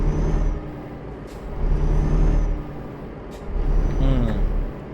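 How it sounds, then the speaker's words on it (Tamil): A heavy truck's air brake in Euro Truck Simulator 2 hisses and releases a few times over a low idling engine rumble, with a faint beep near the end. "பிரேக் எப்படி பிடிச்சி பாருங்க."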